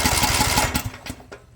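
A riding mower's engine cranks and runs after a 12-volt ignition switch panel is wired to the solenoid, giving a loud steady rhythmic chugging that breaks up and dies away into short sputters near the end.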